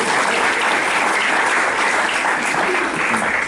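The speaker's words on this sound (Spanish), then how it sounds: "un aplauso una vez más para Demian." A conference audience applauds for Dr. Demian Panigo with steady, loud, continuous clapping that fills the whole stretch and carries no talk.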